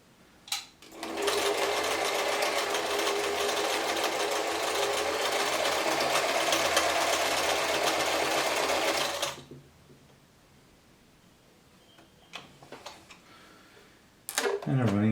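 A German-made Singer 720 sewing machine stitches a pattern in one loud, steady mechanical run of about eight seconds at close range, then stops, leaving faint clicks and handling noises.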